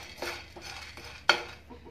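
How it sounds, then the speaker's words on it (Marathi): Chana dal is roasted over a medium flame and stirred in a pan with a utensil, giving faint scraping strokes and one sharper clink against the metal, quiet and close, with no talk. "आणि डाळ मीडियम फ्लेमवर भाजून घ्यायची आहे।"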